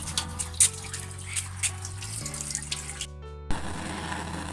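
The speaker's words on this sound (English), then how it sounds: "Wash vegetables." Vegetables washed under a running kitchen tap, a steady close rush of water with small splashes and handling knocks, one brief pause in the flow before it resumes.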